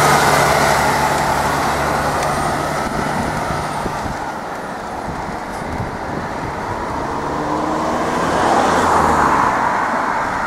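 A bus rolls up from behind on a climbing mountain road in the Julian Alps, Slovenia, its engine a steady low rumble mixed with passing traffic noise that swells again toward the end.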